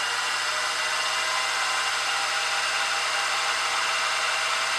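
Center drill boring into a metal beam engine base on a lathe or drill press, a steady, unbroken high whirring hiss with a low motor hum beneath, continuous and close throughout.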